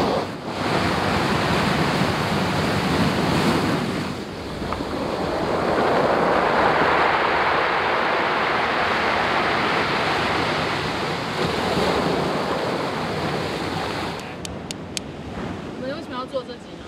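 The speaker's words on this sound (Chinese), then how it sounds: "所以我想说带你们来吹吹太平洋的风， 蛮好的， 听听浪声" Pacific Ocean waves roll onto a round-pebble beach in a loud, continuous roar of surf mixed with gusting wind, swelling and easing, with a brief rattle of stones near the end.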